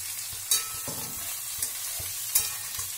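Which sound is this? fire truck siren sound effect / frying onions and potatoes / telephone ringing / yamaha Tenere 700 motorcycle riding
frying onions and potatoes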